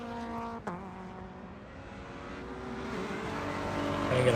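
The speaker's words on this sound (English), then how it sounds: "Here comes our field. Look at that pack of cars coming through turn 2 there." A pack of race cars coming through turn 2 at Hallett during a Hoosier Super Tour road race, engines droning and shifting pitch as the field approaches, growing louder toward the end.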